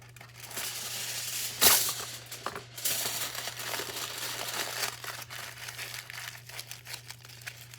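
Aluminium foil crumpled and crushed by hand into a ball for a homemade rainstick, close and crinkly, with a sharp loud crackle near the start, then continuous rustling bursts over a steady low hum.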